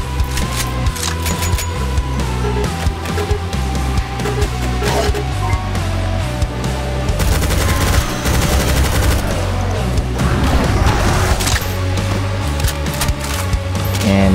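A carbine fires in DOOM 2 with the Project Brutality mod, with dense rapid shots over loud, continuous game music and effects for about fourteen seconds, and no talk.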